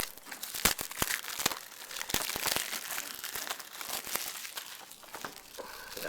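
Plastic wrap and packaging on anime DVD sets crinkle and tear up close in quick, irregular bursts of crackling, with no one speaking.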